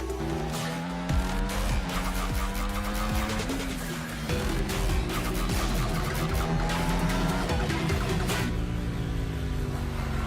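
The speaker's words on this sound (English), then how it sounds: "Engines roaring and ready to go." Racing car engines in a video game whine and shift pitch continuously, with tire squeals and skids layered on top, loud and busy throughout.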